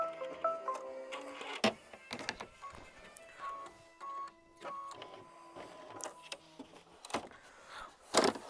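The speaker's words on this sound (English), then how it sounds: "go ahead and sew machine stitch step 9, which is just going to tack that down and give you your trim line" A sewing machine stitches down a quilt block to mark its trim line, running in short mechanical bursts with brief pauses and clicks between them, quiet and close.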